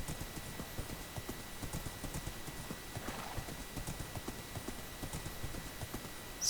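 Horse hooves clip-clopping in the Minecraft video game: a quick, even series of light hoof clops in close succession at a steady pace, with no voices.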